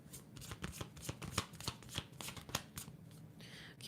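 Tarot cards being shuffled by hand, a quick run of crisp riffling flicks close up and moderately quiet, with no voices.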